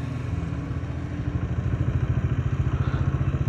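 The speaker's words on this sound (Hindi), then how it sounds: "यहाँ पर ट्रैक्टर अभी अनलोड करेंगे जी" A tractor engine runs close by while unloading a trolley at a highway shoulder construction site, giving a steady, low, rhythmic chugging that grows louder and more pulsing partway through.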